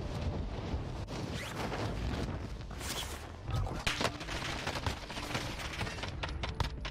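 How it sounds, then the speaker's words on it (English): Dense rapid gunfire in a first-person shooter game, bursts and single cracks crowding together continuously with loud booms mixed in, close and sustained over a faint voice. "This guy's getting shot on the roof."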